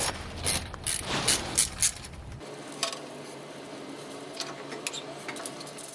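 Wrench loosening the oil line atop a stuck injector on railway museum locomotive 8954, a few quick metallic ratcheting clicks up close, then quieter scattered taps and clanks.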